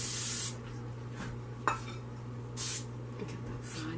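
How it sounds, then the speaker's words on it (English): A can of cooking spray mists a regular 9-inch pie plate for a key lime pie crust, with a loud hiss at the start and a second, shorter burst a couple of seconds later, heard close up over a steady kitchen hum. "Let's give it a little spray."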